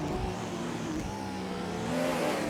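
Engines roar continuously from a Vanwall and two Ferraris battling at the 1956 French Grand Prix, growing slightly louder toward the end.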